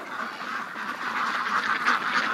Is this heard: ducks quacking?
yes